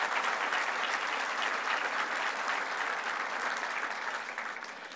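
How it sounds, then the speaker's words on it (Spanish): Sustained applause from an audience at the inauguration of the Gran Museo de Chichén Itzá in Yucatán, a steady dense clapping wash lasting the full span and fading slightly at the end. "Vamos a darle un fuerte aplauso también"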